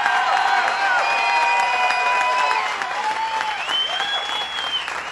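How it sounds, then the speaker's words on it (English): Big stadium crowd applauding for Jim Kelly at a Buffalo Bills home opener, with sustained clapping and cheering that echoes across the open venue and whistles and shouts rising above it. "Let's give a big round of applause for Jim Kelly."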